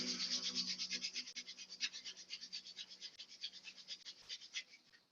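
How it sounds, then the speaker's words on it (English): Palms rubbed together vigorously at heart center during a yoga session, a steady rhythmic back-and-forth swishing friction, fairly close and soft, with no talking. "vigorously rub the palms"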